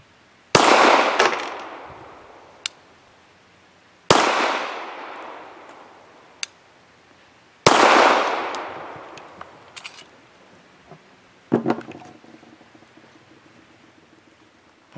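Three loud pistol shots from a Zastava CZ 999 fired at targets, spaced a few seconds apart, each with a sharp crack and a ringing decay, followed by lighter clinks and a metallic clatter.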